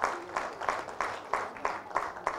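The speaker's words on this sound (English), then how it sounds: "Please welcome him with a thunderous round of applause" An audience applauds to welcome Pullela Gopichand on stage for a fireside chat, with steady, rhythmic clapping from a crowd in a hall.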